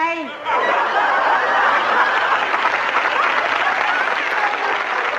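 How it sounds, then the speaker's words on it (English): A studio audience applauds steadily for several seconds, a dense wash of clapping mixed with chuckles and laughter, following a brief spoken moment at the start. "Who's clapping?"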